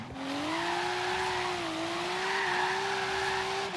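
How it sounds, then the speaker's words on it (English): Nissan Silvia engine in Forza Horizon 3, a steady, fairly quiet drone holding one rising-and-settling pitch throughout, with faint tire noise beneath and no talking. "This engine sounds super quiet to me."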